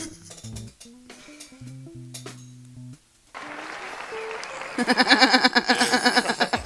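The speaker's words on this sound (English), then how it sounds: "Do you have a more ruckus applause?" Studio audience applause as a sound effect: scattered claps and tonal blips give way to a rising wash of clapping, ending in loud, dense, rhythmic applause with whoops near the close.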